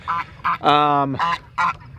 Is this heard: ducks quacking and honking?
yes